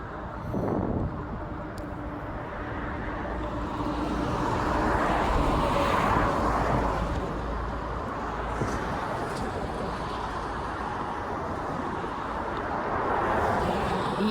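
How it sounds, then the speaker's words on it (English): A police helicopter passes overhead in Pittsburgh, PA, its steady, broad rotor-and-engine rumble holding fairly level throughout, swelling slightly in the middle and again near the end, with no talking. "Yeah, that was a red, white, and blue helicopter. So that was a police helicopter."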